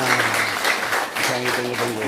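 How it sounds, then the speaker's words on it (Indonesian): A crowd at a student alliance rally claps for the DPRD chairman, with a dense burst of handclaps and a brief tonal hum or voice underneath. "Tepuk tangan untuk Ketua DPR."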